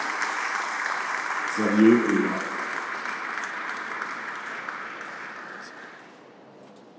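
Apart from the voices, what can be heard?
audience applause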